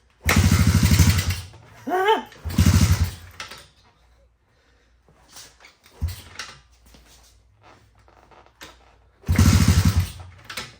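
A 1985 Honda ATC70 three-wheeler with an upgraded 125cc engine running on choke fires up in three short bursts of loud, close revving, each dying away, with quiet gaps of handling noise between.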